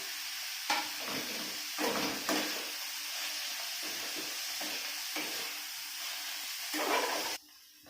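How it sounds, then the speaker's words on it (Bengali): Sizzling and hissing as chillies fry with cabbage in a hot pan, with bursts of louder crackle as it is stirred, then the sizzle cuts off abruptly. "ভেজে আমি এবারে লঙ্কাটা দিয়ে দিচ্ছি।"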